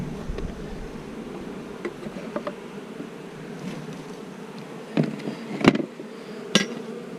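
A steady, close hum of honeybees from mixed hives fills the air as nucs are assembled, with a few sharp clicks and knocks of hive equipment near the end.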